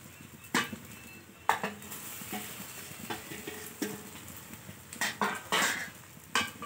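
Cooked rice is stirred together with onion, chilli and oil in a pot, giving scraping, clinking utensil strokes with a light sizzling crackle, irregular and close, with no talking.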